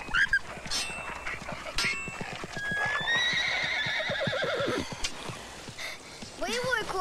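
A war horse from a 2003 historical war drama whinnies with falling harmonic calls among steady hoofbeats. A second neigh comes near the end, and voices and battle-scene sounds run underneath.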